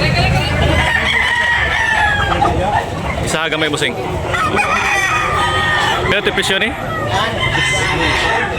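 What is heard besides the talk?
roosters crowing at a chicken market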